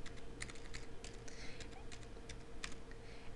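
Computer keyboard typing a new folder name in Microsoft Outlook, a quick run of light, uneven key clicks close up over a steady background hum.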